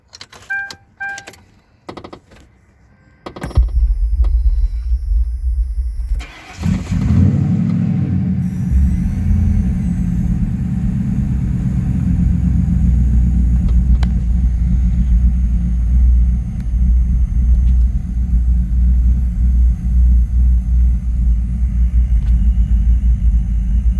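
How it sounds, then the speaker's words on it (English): A 2004 LX Sport fitted with a 75mm throttle body, PI tube and upgraded MAF sensor cranks, fires up and settles into a loud, steady, rumbling idle that holds close for the remainder. "Let's try starting this vehicle up and see what we got here"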